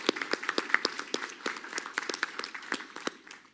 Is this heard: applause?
yes